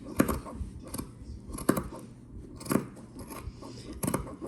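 Scissors trimming crochet yarn on a handmade lion camera buddy, four crisp close snips spaced about a second apart, with no talking.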